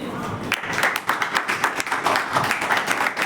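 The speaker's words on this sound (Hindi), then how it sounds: "एक बार जोरदार तालियां सबके लिए" A classroom of schoolchildren claps together for their classmates, a dense, steady patter of hand claps filling the room, with some voices mixed in.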